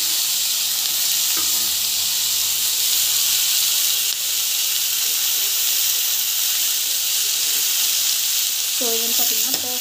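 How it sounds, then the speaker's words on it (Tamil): Tomato sautéing in a pan for mushroom gravy gives a steady, loud sizzle and hiss throughout, with a few light stirring scrapes near the end and no talking. "கொஞ்ச நேரம் வதங்கினா போதும்"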